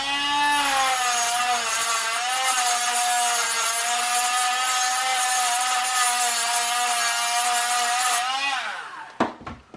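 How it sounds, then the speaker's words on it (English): A Dremel rotary tool with a grinding stone removes leftover weld spots from metal while repairing a Dyson V6 battery, giving a loud, steady high-pitched whine that holds for about eight seconds before spinning down and stopping. "So this is not good for the welding, so I'm removing it with a Dremel."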